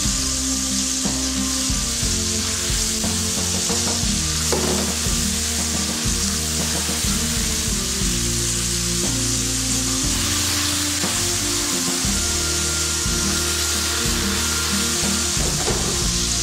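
Minced meat stir-frying with king oyster mushrooms in a hot pan, giving a steady loud sizzle with scraping and stirring knocks from a utensil throughout, no voices.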